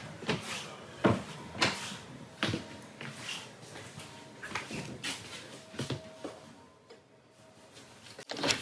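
A heavy, solid pantry door inside a 2021 Grand Design Solitude 3740BH fifth-wheel RV opens and closes, giving a series of quiet knocks, clacks and thumps spaced irregularly over several seconds.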